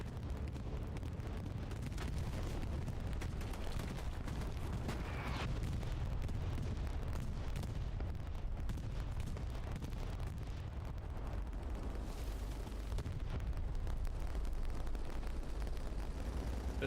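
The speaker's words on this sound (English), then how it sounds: "Here comes the bombing run." Explosions from a bombing run in the video game Hell Let Loose rumble as a continuous heavy, low roar with deep booms blending together over the whole stretch, loud and close.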